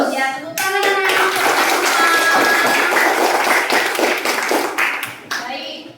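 A group of children claps together, rapid overlapping hand claps mixed with young voices, close and loud, fading toward the end.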